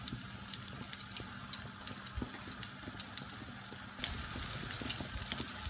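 Tuna fritters (katreless) sizzle in hot oil in a pan, giving a soft, continuous crackle with scattered pops and a slight rise in activity partway through, heard quietly and close with no talking.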